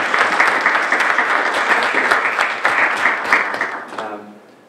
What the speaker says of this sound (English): I would like to give a round of applause for her to be here with us today.